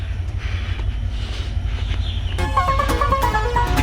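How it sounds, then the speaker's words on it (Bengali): A train pulls out of a station on the Gazipur rail line: a steady low rumble with wind buffeting the microphone, then, partway through, rhythmic metallic squeals and clatter join in as the cars get moving close by. "ট্রেনটা ছেড়ে দিল রে।"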